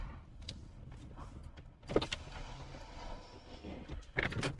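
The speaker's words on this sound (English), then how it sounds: "I put my window down when I keep my car running" A car's power window motor whirs as the glass is lowered while the car sits idling, a short electric hum amid faint cabin rustling and a few clicks.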